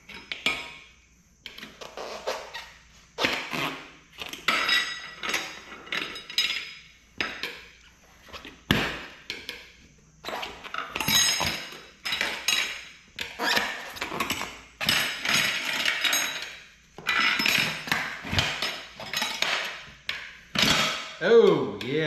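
Steel tire irons scrape and clank against a rim while a tire is levered off a KLR 650 motorcycle, giving repeated bursts of metallic scratching and knocking, close and irregular, with brief grunts between them.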